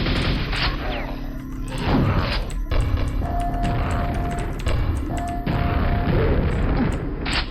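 Grenade explosions in the video game Quake land as a run of loud, booming bursts mixed with crashing gunfire, one after another over a steady in-game din.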